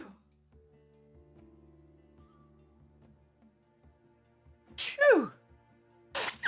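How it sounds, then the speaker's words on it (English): A person sneezes once near the microphone in a quiet room, a sudden loud burst with a sharp drawn-out sweep, followed by a second loud breathy burst; before it, only faint background hum and light ticks. "I think I'm going to sneeze."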